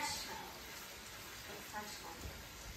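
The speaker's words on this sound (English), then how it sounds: "I'm going to stir fry this on a very high heat for about 4 minutes" Button mushrooms and vegetables stir-frying over very high heat, giving a steady, dense crackling sizzle that carries evenly throughout at moderate loudness with no one speaking.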